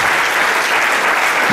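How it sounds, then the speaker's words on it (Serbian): Audience applause at an event honouring a family, a loud, dense, sustained burst of many hands clapping together. "Jedan aplauz za porodicu Rakoci."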